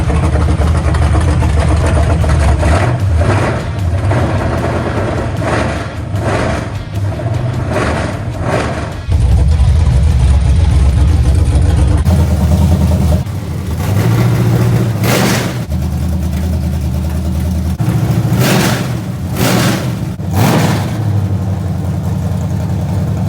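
A Camaro race car running on race gas idles with a steady low rumble, then revs in several sharp, loud bursts close by, the engine note rising and falling between blips.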